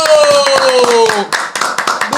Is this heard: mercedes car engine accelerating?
no